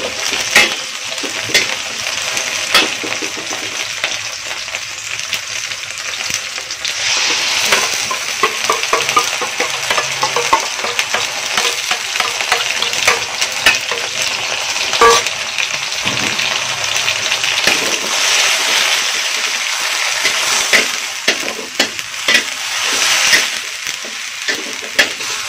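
Onions sautéing in a pan give a continuous bright sizzle with scattered clicks and scrapes of stirring, steady and fairly close throughout.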